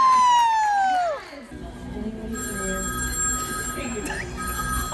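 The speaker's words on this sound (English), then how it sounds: "It's like an old rotary phone as well." An old rotary telephone ring sounds during a game show on a cruise ship sea day, starting loud with a falling tone and then continuing more faintly over a murmuring crowd.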